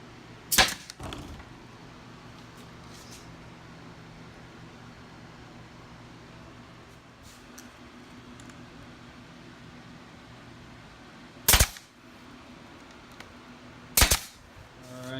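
A staple gun fires three separate sharp, loud snaps at uneven intervals during the build of a modern DJ facade, with a quiet hum between shots.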